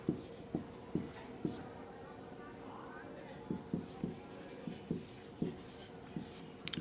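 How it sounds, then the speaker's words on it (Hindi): Writing on a board during a Hindi-medium chemistry lesson: a steady series of sharp taps and scratchy strokes, close and fairly loud, coming in short bursts with brief pauses while a faint voice talks underneath. "नीचे से लिखते हैं"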